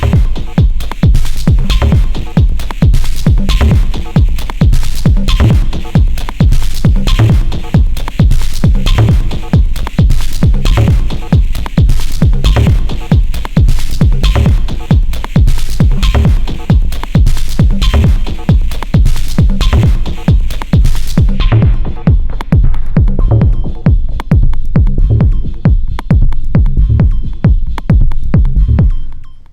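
Elektron Syntakt drum machine playing a loud, dense, rapid rhythmic beat through its effects block, with punchy repeated hits that continue steadily before the high end cuts out and the pattern thins near the end.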